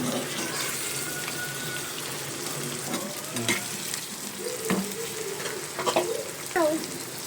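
Prawns frying in a pan give a steady, close sizzle, with occasional clinks and stirring scrapes over it and no speech.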